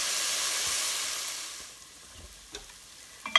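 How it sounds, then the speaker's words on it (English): Vegetables for an Italian-inspired soup sautéing in a pan with kosher salt, a strong close sizzle that fades down to faint crackle, with a few stirring knocks near the end. "So the vegetables have sauteed for about 5 minutes."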